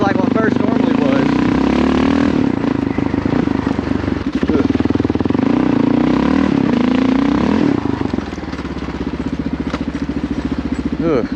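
A Kawasaki KLR650 motorcycle engine roars loudly up close as it accelerates through the gears on a muddy hill-climb trail. The rumble rises and falls and drops in pitch near the end as it shifts, with a rider talking underneath.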